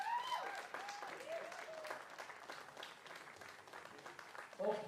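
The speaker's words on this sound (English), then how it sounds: "And final round of applause for our competitors." At a women's timbersports lumberjack competition, the crowd claps in a steady round of applause for the competitors, moderately loud and continuous, with a few faint voices or whistles cutting through near the start and end.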